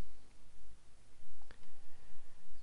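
A single soft computer mouse click, close but faint against a steady background hiss.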